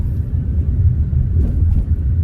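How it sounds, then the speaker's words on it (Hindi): Strong dusty wind storm blowing hard over a road during camping, a steady loud low roar with heavy rumble and no pauses. "कितनी तेज हवा चल रही है"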